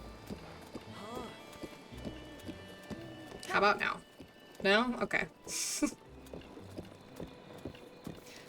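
Horse hooves clip-clop at a steady trot in Zelda: Breath of the Wild, with game music, under frequent talk from a streamer.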